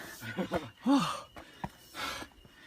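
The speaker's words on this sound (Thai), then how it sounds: "ฟังเสียงหอบครับผม" Heavy, uneven breathing and panting from a hiker after descending a steep mountain in Australia, with several close breaths, sighs and gasps at irregular intervals.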